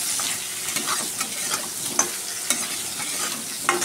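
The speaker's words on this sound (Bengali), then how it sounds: "একটু নাড়াচাড়া করে ভেজে নেব।" Sliced ridge gourd fries in a pan with salt and turmeric, a steady, close hiss of sizzling oil with soft scraping stirs and small pops scattered throughout.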